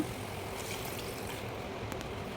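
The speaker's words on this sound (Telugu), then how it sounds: "వాటర్ అయితే పోస్తున్నాము" Water is poured into a pan of meal maker (soya chunk) masala curry as it cooks, making a faint, continuous trickling wash that lasts throughout.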